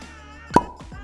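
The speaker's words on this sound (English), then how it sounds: "A cork pop." A cork pops from a bottle at an Australian whisky distillery: one sharp, loud plop, followed by a brief fading ring and a softer trailing sound.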